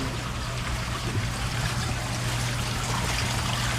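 Water trickles steadily into a backyard mud crab pond, a continuous close wash of splashing flow with a low hum underneath and no pauses.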